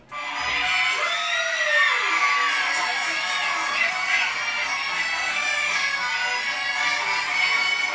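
A concert crowd at a live Dahsyat show in Dompu cheers and shouts continuously, a dense, loud wall of screaming and whooping voices with a brief whistle-like sweep early on.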